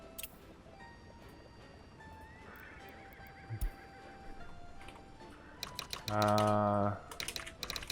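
A horse in the city-building game Workers & Resources, hauling a concrete wagon, gives a loud, close whinny with a clear rising and falling tone near the end, preceded by faint clip-clop of hooves and quiet keyboard typing.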